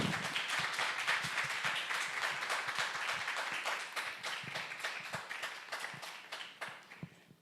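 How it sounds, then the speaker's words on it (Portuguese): Steady audience applause for two guests at a literature event and book launch, made of crisp, rapid hand claps that go on evenly and fade slightly toward the end, heard faint and somewhat distant. "E eu peço uma salva de palmas para os nossos 2 convidados."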